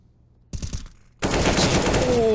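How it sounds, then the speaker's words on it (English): Gunfire in a Counter-Strike match: a short burst of sharp cracks, then after a pause a loud, dense volley of shots ringing on with no talk over it. "Sandon shoots off a couple of shots."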